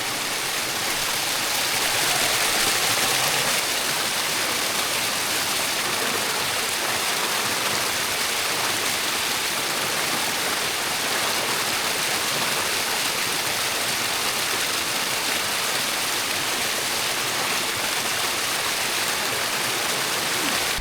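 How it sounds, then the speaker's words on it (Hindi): A fresh water stream flows nearby at night along a hiking route, giving a steady, dense rushing and babbling wash that stays even and unbroken throughout, with no talking. "सामने पानी की एक धारा बह रही है, फ्रेश वाटर है बिल्कुल।"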